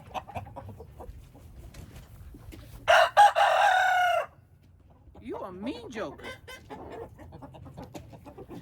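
A rooster on a homestead crows once loudly and close, a sharp burst with a long held note, then clucks and chatters quietly; a person speaks briefly beforehand over a low background hum.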